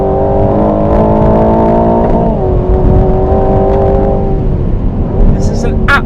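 The engine of an Aston Martin Valhalla on a technical, bumpy, twisty race circuit. It drones steadily and loudly from inside the car and shifts pitch as it brakes and accelerates, with the driver talking over it.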